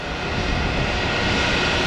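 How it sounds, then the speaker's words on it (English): A Global Crossing Airbus A321 jet in its blue tail livery produces a steady, loud, broadband engine roar at an airport, sustained evenly across the short stretch with no voices. "Here's our other Global Crossing aircraft. Airbus A321."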